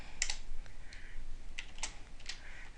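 Keys clatter on a computer keyboard during a C++ programming session, short bursts of close, crisp clicks with brief pauses between them.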